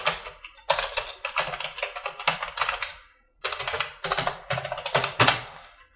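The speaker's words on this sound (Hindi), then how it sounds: "आप अपना ईमेल एड्रेस टाइप कर दीजिए।" An email address is typed on a computer keyboard: close, crisp key clicks come in two rapid bursts separated by a short pause, and no voice is heard.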